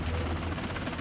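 Helicopter hovering during a rescue hoist operation, with a dense, steady rotor and engine roar filling the whole moment, loud and close with no speech.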